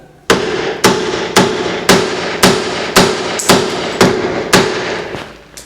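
Hammer blows ring out against a stuck track rod end on a Mini 1275 GT, about ten sharp metallic strikes at a steady, even pace, close and loud with no talking.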